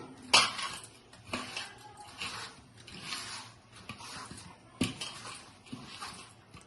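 Mango pieces for a quick pickle are mixed with spices by hand in a bowl, making soft rubbing, squishing sounds with a couple of sharp knocks against the dish, close and moderately loud.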